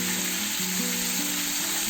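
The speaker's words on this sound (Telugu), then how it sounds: "కొద్దిగా ఫ్రై చేసుకొని సోయా సాస్ యాడ్ చేసుకున్నాము" Soy sauce hits hot garlic paste in a pan while cooking orange chicken, giving a steady, close hiss of frying that holds for the whole moment without pause.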